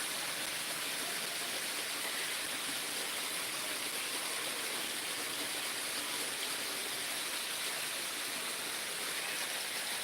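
Heavy torrential rain pours down in Sirajganj as a dense, steady hiss that stays loud and unbroken throughout, with no voices.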